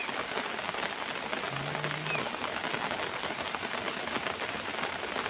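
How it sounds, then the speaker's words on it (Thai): Continuous morning rainfall drumming on a surface nearby, a uniform wash of droplets that never lets up; no one speaks. "ฝนตกแล้"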